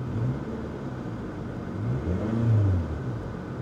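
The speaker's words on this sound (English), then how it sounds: "Let's give her a little rev." A 2011 Hyundai Genesis Coupe engine revs up from idle, a low droning rumble swelling to a peak near the end before easing off, close by with no talking.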